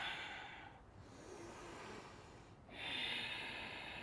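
A yoga practitioner breathes audibly during a flow, with long, airy, close-up exhalations through the nose, two surging breaths separated by quieter pauses and no talking.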